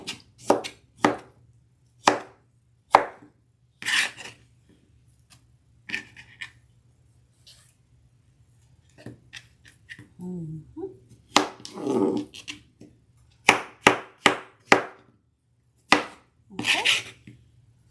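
A sharp knife chops fruit on a cutting board for homemade fruit salad, giving crisp, loud, close knocks in quick bursts separated by pauses. A short spoken word and faint murmuring appear in the gaps.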